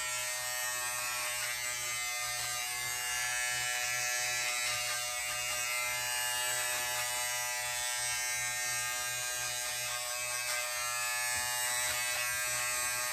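An electric beard trimmer buzzes continuously at close range while trimming a beard at home, a steady high-pitched motor whir with small shifts in tone as it moves over the hair.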